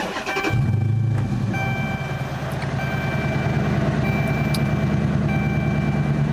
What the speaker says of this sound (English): Let's start up the car and hear it from the inside. Let me press this red start button here.